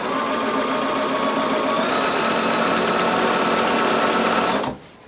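A Bernina sewing machine stitching curves through pinned quilted fabric at a regular 2.5 stitch length, running in a steady, fast, close mechanical whir for nearly five seconds before stopping abruptly.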